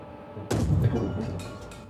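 A single deep, booming M1 Abrams tank main-gun shot in a video game goes off abruptly after a short quiet lead-in, then rumbles and fades over the following second.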